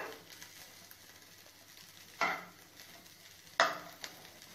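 Rava kesari with sugar being stirred in a pan using a ladle, giving a soft steady sizzle with two sharp scraping strokes of the ladle against the pan, close and moderately quiet, with no talking.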